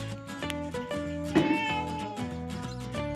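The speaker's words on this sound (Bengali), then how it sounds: "বিড়াল শুয়ে আছে" A cat meows softly once or twice over a quiet, steady tonal background.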